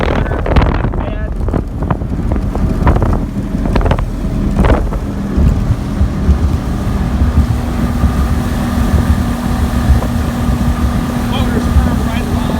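A Glastron CVX16 motorboat with an Evinrude ETEC 150 HO outboard engine drones steadily on a lake under heavy wind buffeting, with a few sharp knocks early on and a constant low hum throughout.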